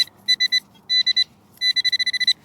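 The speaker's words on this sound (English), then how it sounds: "the detector's sure being loud about it" A metal detector, used in a rain-soaked old school yard, sounds a series of loud, high, rapid beeps in three bursts close at hand, signalling a buried target.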